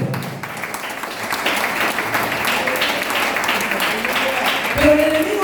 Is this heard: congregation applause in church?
yes